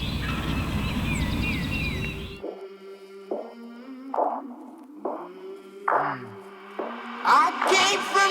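Wild turkeys gobble at dawn on a Pennsylvania spring morning, several rattling calls scattered across the stretch, moderately distant, after a brief burst of louder noise at the start.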